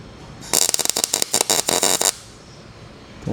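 A MIG welder lays a tack weld on an axle swap kit, running for about a second and a half as a loud, close, sputtering crackle with uneven pops, poorly tuned, then cutting off abruptly.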